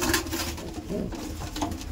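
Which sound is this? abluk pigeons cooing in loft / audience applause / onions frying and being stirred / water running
abluk pigeons cooing in loft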